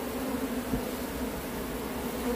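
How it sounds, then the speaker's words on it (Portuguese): A honeybee swarm at an opened hive buzzes steadily as a dense, continuous drone that fills the whole stretch, with no speech over it. "Tô vendo também tem bastante abelha."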